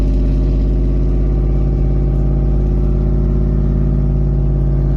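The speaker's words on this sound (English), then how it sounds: "You can hear that amazing exhaust sound." A Nissan's engine drones steadily with a throaty exhaust rumble, loud and continuous, heard from inside the vehicle with no talking.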